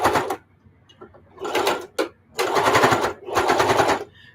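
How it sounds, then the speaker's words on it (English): A sewing machine stitching through a thick stack of fabric in several loud, rapid mechanical bursts separated by short pauses, the stitches hammering close by like a fast rattle, with no voice over them. "Okay, so watch this machine. It's going to sew through all of this"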